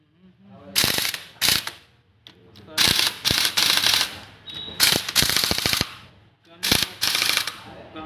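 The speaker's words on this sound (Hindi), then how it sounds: "फाइनली बोल्ट को टाइट करना।" A hand ratchet tightens the bolts on a TVS scooter engine's head cover in several loud, close bursts of rapid clicking, separated by short pauses.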